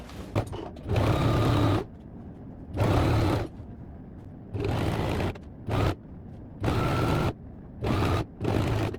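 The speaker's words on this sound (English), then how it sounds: "I'm going to go ahead now to sew all my darts together." A sewing machine stitches darts on a wrap dress in loud, close bursts of rapid whirring, each run lasting about a second and separated by short quiet pauses, with no talking.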